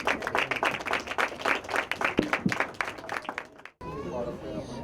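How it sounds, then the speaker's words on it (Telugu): An audience at a church youth and women's fellowship meeting claps in a dense, lively burst, then the applause cuts off abruptly and an indoor murmur follows. "ఆవిడ వచ్చి చూడగా చప్పట్లు కొట్టారు"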